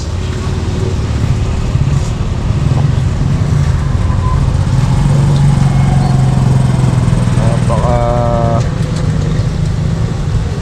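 Steady road traffic with several passing motorbikes and cars on a rainy morning, a continuous loud engine drone throughout, with a brief horn-like tonal burst near the end.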